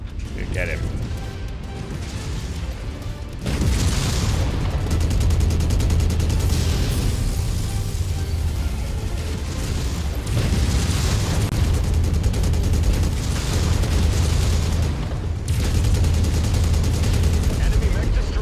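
Mech weapons fire in MechWarrior 5, a loud, dense barrage of rapid gunfire and blasts that surges and keeps going, with a voice speaking over the din.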